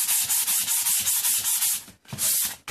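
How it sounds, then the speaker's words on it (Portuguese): Sandpaper scraping by hand in a steady back-and-forth rhythm, close and fairly loud, with a brief pause before the strokes resume. "Vamos começar a lixar, gente"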